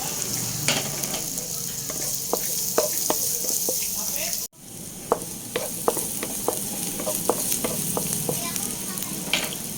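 Onions sautéing in a pan for a Filipino mussel soup, a steady close sizzle with frequent ladle taps and scrapes, broken by a brief cut near the middle; no talk.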